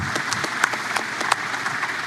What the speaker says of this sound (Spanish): Les doy un aplauso y celebramos que hayan venido.